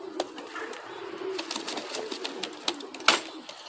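Racing pigeons of the Van den Wouwer line, close by, with soft cooing and several quick bursts of wing flapping, the sharpest flap near the end.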